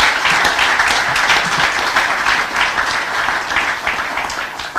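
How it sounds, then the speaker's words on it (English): Dense, sustained applause from a large audience at a territorial address, loud and steady throughout with no voices over it. "Let's give him another round of applause."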